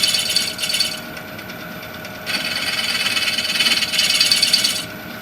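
A scraper cuts a wooden spoon on a lathe, giving a hissing, rasping scrape in several bursts over a steady whir of the spinning machine, heard up close.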